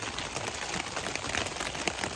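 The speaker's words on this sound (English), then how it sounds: "It's raining in the desert." Rain patters steadily on a surface nearby in a desert slot canyon, a soft, even hiss dotted with small scattered drops.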